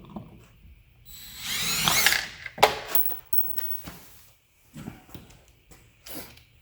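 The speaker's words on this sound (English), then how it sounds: "Got this self-tapping screw here. Going to run that into the cap," A drill runs a self-tapping screw into a locking gas cap, giving a close rising whine and grinding bursts, then scattered clicks and short mechanical rattles.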